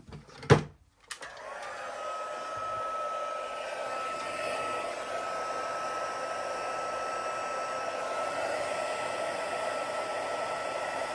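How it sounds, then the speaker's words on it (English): A heat embossing tool blows hot air in a steady, continuous whir and rush after a brief click and clatter as it is switched on, holding an even, moderate level close by with no talking. "we're going to heat emboss that"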